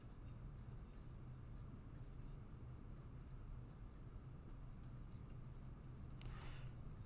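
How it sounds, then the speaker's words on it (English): Handwriting with a pen on paper in a quiet room: soft, faint scratching strokes come in short, irregular runs, with a slightly louder flurry near the end and no talking. "I'll write photoresistor as best I can."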